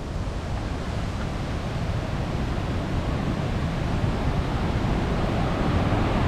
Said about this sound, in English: you can clearly hear the water and the power behind it as well